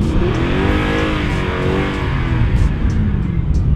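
A truck engine revs hard on a sloppy, snowmelt-soaked muddy trail, a loud continuous throaty roar with rising and falling pitch as it churns through the mud, close and unbroken.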